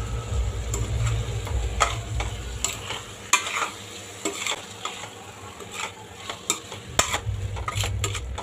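Prawns are stirred into a thick curry masala for kolambi rassa in a pan, with a soft steady sizzle and repeated scraping and clinking of a spoon against the pan, close and clear.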